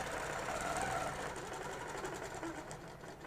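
A sewing machine stitches steadily along an acrylic quilting ruler during ruler work, its motor a continuous close, even whir with a faint rhythmic needle chatter throughout.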